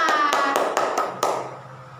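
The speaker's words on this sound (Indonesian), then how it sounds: "Oke, tepuk tangan dulu untuk kalian semua." A classroom of students claps hands together in a short burst of about half a dozen sharp, spaced claps, fairly close and loud, trailing off into quiet.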